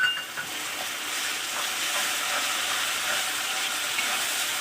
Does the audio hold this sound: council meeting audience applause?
no